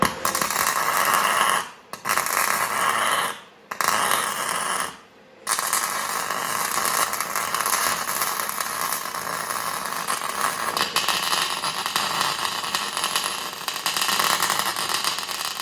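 Welding on an axle differential with spider gears, a steady loud buzzing hiss that runs almost continuously, broken by a few short pauses early on before settling into one long unbroken bead.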